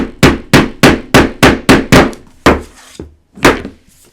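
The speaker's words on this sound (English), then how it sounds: "make some noise by pounding this into place" A small hammer pounds sharply and loudly while setting a stationery folio craft, about nine close strikes in a steady rhythm, then a few slower, softer final taps.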